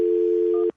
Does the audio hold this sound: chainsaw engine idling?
no